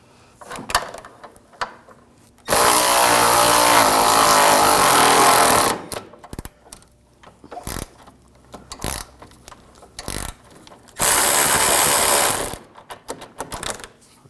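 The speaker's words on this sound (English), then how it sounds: "Now we're going to loosen up this bolt and nut. Use an 18mm wrench on the nut, 18mm socket on the bolt." Wrench and socket working loose an 18mm bolt and nut on a front lower rearward control arm of a 2006-2009 Audi S4 Convertible, with two long, loud bursts of rapid mechanical ratcheting or impact-gun noise separated by short clicks and clunks.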